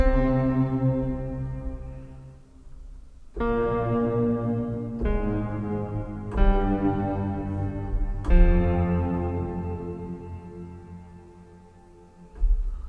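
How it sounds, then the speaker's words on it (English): Sustained tones ring out in bursts with a shimmering effects wash, the tail thick with added lower pitches that swell and fade between each new attack. "it's sort of an effect, not just a reverb. There's more lower pitches in that one."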